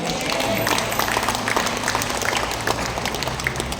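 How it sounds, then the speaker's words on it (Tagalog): A church audience, including senior citizens, breaks into applause, many hands clapping in a dense, continuous patter that stays steady and fairly loud throughout the few seconds. "O palakpak ng mga senior citizen"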